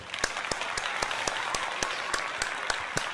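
Applause from a small group in a baseball broadcast studio, a steady wash of clapping with several sharper individual claps standing out at regular intervals, fairly close and moderately loud.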